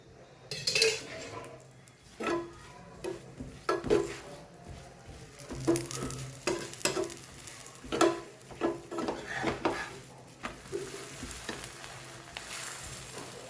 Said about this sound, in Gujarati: હવે ઉપરના લેયરમાં આપણે તેલ લગાવી લઈએ.